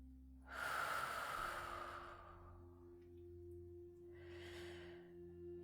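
A deep, slow exhale breathes out during guided meditation, followed after a pause by a softer second breath, all quiet and close over a faint steady hum, with no talk.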